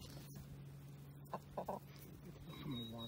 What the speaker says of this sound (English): they're finally gonna go get some water. Some water, because the black chickens are over here.